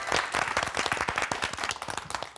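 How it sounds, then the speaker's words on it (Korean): An audience claps to welcome a speaker at a talk on rehabilitation, brisk, closely packed applause, loud and near, holding steady for the whole stretch. "박수로 청해 듣겠습니다."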